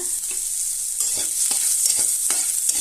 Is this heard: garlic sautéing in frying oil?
yes